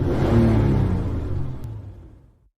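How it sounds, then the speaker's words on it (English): A noisy cartoon sports car roaring past, a loud rumbling engine whir that starts strong and fades steadily away over about two and a half seconds before cutting to silence. "My afternoon was interrupted by a noisy sports car."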